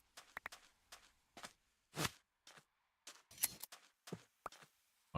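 Shears snip wool from a sheep in Minecraft as a rapid run of sharp clicks and short crunchy bursts, some louder than others, with no talking.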